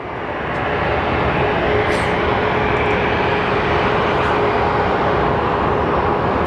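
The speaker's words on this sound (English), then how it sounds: "we are looking at Horizon Air going to San Francisco, and then American 332 going to Chicago" An airliner's jet engines roar at Phoenix Sky Harbor Airport, a loud, steady, broadband rumble that builds in the first second and then holds unbroken, with no voices.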